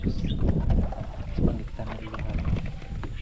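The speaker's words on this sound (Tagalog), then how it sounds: "Mahangin-hangin siya. Ang sarap ng hangin." Wind blowing outdoors, a steady low rumble with gusty buffeting throughout, close to the microphone.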